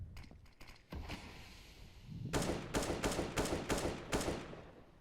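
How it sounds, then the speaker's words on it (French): FAMAS rifle fire in an online competitive shooter match: a few scattered early shots, then a string of five or six sharp, loud bursts in quick succession. "On essaie de faire des tirs un peu aléatoires pour espérer mettre quelques dégâts."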